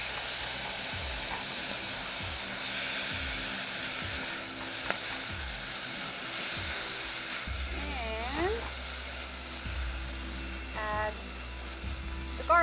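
Korean soup soy sauce (gukganjang) sizzles steadily in a stir-fry pan with potato, a continuous frying hiss with faint stirring scrapes and clinks throughout, near and fairly loud, with no talking.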